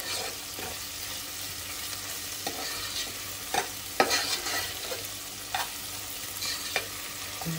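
Onion and tomato sizzle quietly in a pan, a low steady frying hiss broken by occasional scraping stirs and light taps, with no one talking.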